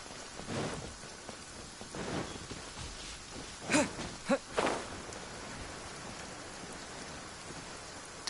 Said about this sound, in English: Maybe not so much when it's raining, but this village area really is one of my favorite spots in the game.